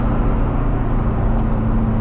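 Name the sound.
Chevrolet car engine running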